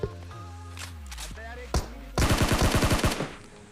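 Gunfire crackles in a battle royale game: scattered single shots and thuds early on, then a fast, loud automatic burst of evenly spaced rounds, with a voice talking faintly underneath.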